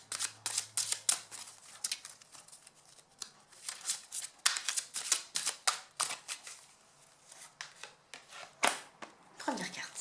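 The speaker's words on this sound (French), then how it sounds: "Je bats les cartes." Oracle cards being shuffled by hand, producing repeated crisp riffling and slapping bursts in irregular clusters, close and fairly loud, with short pauses and a brief voice sound near the end.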